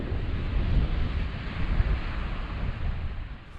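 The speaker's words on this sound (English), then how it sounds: "Oh, so windy here." Strong coastal wind at Port Erin on the Isle of Man buffets the microphone in a steady, loud, gusting roar with surf-like rushing and no voices.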